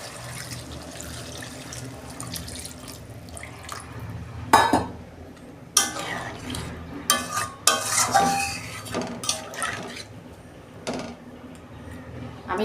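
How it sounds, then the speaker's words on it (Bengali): Water poured into a pan of cauliflower and potato roast, mixed with clinks and scrapes of utensils against the pan, loud bursts and splashes in irregular clusters over a low hum. "আমার কষানো হয়ে গেছে, আমি পরিমাণ মতো জল দেবো"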